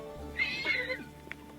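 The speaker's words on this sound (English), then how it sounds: "Look at this herd of horses." A horse from a wild herd gives a single long neigh, clear and fairly close, followed by a faint short call.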